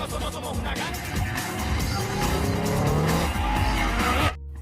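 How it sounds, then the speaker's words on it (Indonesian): Racing cars skid and squeal their tires during a chase in Fast & Furious 2, a loud, dense wash of screeching rubber and engine roar that ends abruptly. "puluhan mobil muncul yang dikendarai para pembalap untuk mengalihkan para polisi"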